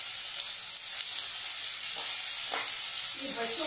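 Potatoes cut for aloo bhurji fry together with onion in a pan, giving a bright, steady sizzle with a few stirring scrapes, close and continuous.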